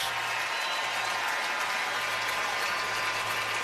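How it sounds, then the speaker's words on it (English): A baseball stadium crowd at a Dodgers versus Mariners game applauds a batter stepping up to the plate, a steady distant wash of clapping and cheering heard faintly throughout. "gets another great round of applause"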